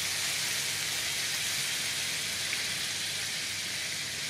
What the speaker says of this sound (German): nehmen wir etwas Zitrone und geben die Zitrone in die Pfanne